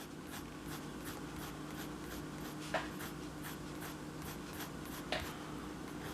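Eraser rubbing over a pencil drawing of a dinosaur on paper, a quiet rapid series of short scratchy strokes in steady rhythm, close up, with a couple of slightly louder taps.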